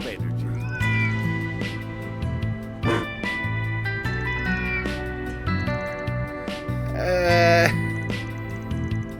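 A cat meowing in the role-playing game Trails Through Daybreak, a few short meows over game music, with people talking at the same time.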